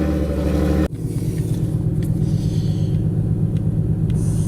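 A car driven around to warm its engine before an oil change gives a steady low rumble throughout, with a sharp shift in tone near the start and a close, continuous road drone afterward.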